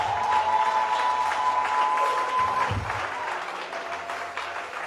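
Church congregation applauding the Lord: steady, dense clapping from a crowd for the full length, loud and continuous, easing off slightly toward the end.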